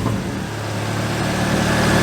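A car engine idles steadily and close, a smooth continuous drone with no talk over it.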